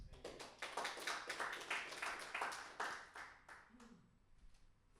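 An audience applauds in a burst of many clapping hands lasting about four seconds, loud at first and then thinning out and fading near the end.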